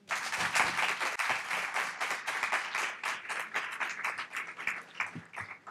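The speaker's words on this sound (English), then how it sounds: "I'd like us all to welcome the Lieutenant Governor with some applause." Audience applause welcoming the Lieutenant Governor at a SUNY press conference at Downstate Medical Center: dense, sustained clapping from a crowd, steady and fairly close for the whole stretch, easing slightly toward the end.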